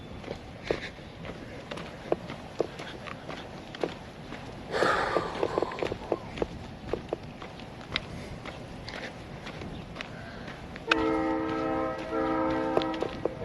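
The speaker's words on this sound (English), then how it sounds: "Love the sound of American trains." An American train passes by and sounds a loud, sustained horn blast near the end, with a mid-clip rumble and scattered footsteps heard throughout.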